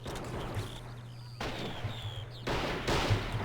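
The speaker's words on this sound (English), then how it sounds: "Now my rifleman's shooting it out with his infantry over here." Rifle and infantry gunfire in the Men of War: Assault Squad 2 video game: a steady low battle rumble with scattered sharp shots and bursts, growing denser toward the end, with no talk.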